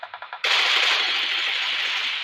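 Groza assault rifle fire in the PUBG Mobile video game: a few separate shots, then a sustained loud full-auto burst that keeps going to the end, close and alone.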